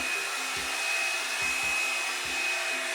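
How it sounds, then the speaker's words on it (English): A hair dryer runs on low during an at-home salon blowout, giving a steady, continuous airy whir close by with faint low thumps from brushing, and no voices. "small sections at a time with the hairdryer on low"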